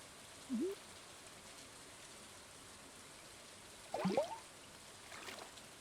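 Steady rainfall in the Stardew Valley video game, a soft continuous hiss of falling rain throughout, with a couple of brief louder bursts of game sound effects over it.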